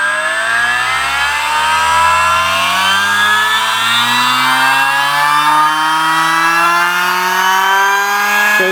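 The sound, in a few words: miniPRO dyno rolling road running flat out at maximum revs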